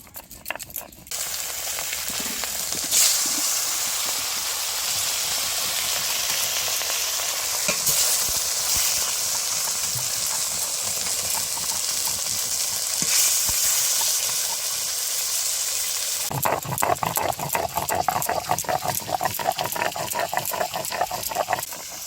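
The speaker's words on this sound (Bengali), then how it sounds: "এবার আর কয়েক পিস দেবো কড়াইতে ভাজার জন্যে" Pieces of shol (snakehead) fish fry in a kadai with a steady, loud hiss and sizzle that runs throughout, turning harsher and crackly near the end as more pieces go into the oil.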